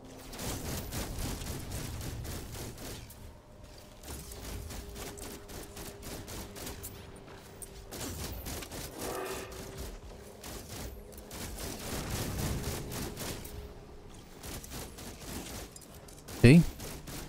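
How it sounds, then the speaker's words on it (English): Rapid gunfire from a No Man's Sky battle with Sentinels, rounds pinging and bouncing off a starship hull in a dense, continuous clatter, with a sharp louder burst near the end. "You saw the actual gunfire bouncing off the ship."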